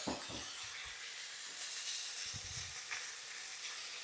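A quiet, steady hiss of chicken sizzling in a pan with honey fills the background, with a few soft clinks and stirring knocks near the start and middle.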